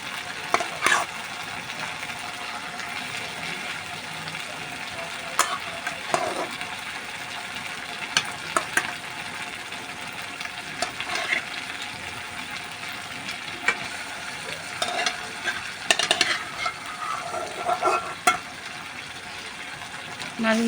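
Fish fried and stirred with peas and coriander powder in a pan, giving a continuous close sizzle broken by repeated scraping stirs and utensil knocks, with occasional faint background voices.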